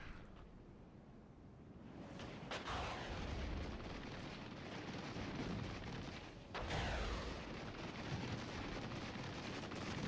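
Artillery and cluster munition explosions rumble and boom in the video game Regiments, with two distinct impacts breaking through a dense, continuous background of battle noise.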